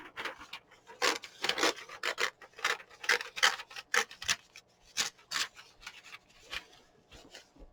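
Journal pages are cut apart with scissors or a similar blade, giving a close series of short, crisp snipping and rubbing bursts in an irregular rhythm, with no voices.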